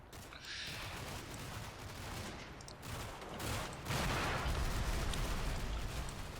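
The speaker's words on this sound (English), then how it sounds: "Oh, where was that explosion?" Mortar explosions in a war video game, heard as faint, distant rumbling blasts over a steady wash of battlefield gunfire noise, with a louder burst near the end.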